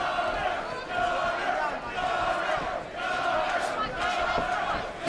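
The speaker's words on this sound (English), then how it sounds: "You can hear all the support from the crowd in this fight." Crowd at a charity boxing fight event roars and shouts in support, a steady, dense wall of cheering voices from a packed hall with surges every second or so.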